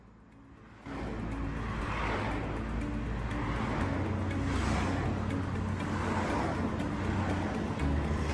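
Several cartoon cars drive along a busy road, a steady engine hum and traffic noise that swells in after a quiet start and carries on without talk.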